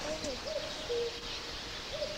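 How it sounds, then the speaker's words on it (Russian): A cuckoo calls outdoors, sending several soft two-note hoots at uneven intervals from some distance over a quiet, hissy background. "Где-то кукушка."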